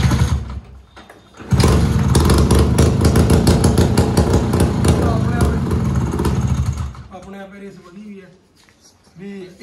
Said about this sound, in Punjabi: ਇਹਦੀ ਰੀਸ ਚ ਲਾਇਆ ਤਾਂ ਤੇਰੀ ਕਿੱਡਾ ਦੱਬ ਕੇ ਵੱਜਾ ਸਿਲੰਸਰ